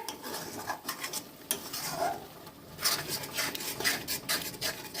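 Spice masala with turmeric for chicken curry is stirred and fried in a pan, with a spoon scraping and rubbing in irregular, fairly close bursts over a soft background sizzle.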